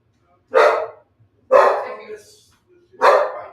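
A dog barks three times at a house door on the arrival of a carpet cleaning visitor, sharp, close barks spaced about a second apart with quiet gaps between.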